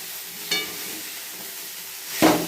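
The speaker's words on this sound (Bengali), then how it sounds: "ডাঁটাগুলো ভালো করে কষে কষে ভেজে নিলাম।" Moringa drumsticks fry in a pan with a faint, steady sizzle, broken by two brief louder bursts of spitting oil, with no voices.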